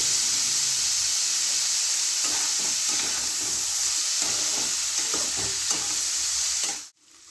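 Masoor lentils fry with spices in a pan over a lowered gas flame, giving a steady, close sizzling hiss with scattered stirring scrapes throughout, ending abruptly near the end.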